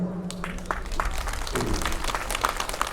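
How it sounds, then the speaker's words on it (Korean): Steady crowd applause at a Lions Club free-meal charity event fills the space, a dense patter of many hands clapping at an even level throughout. "여기 계신 모든 분들께 깊은 감사의 박수를 보내드립니다"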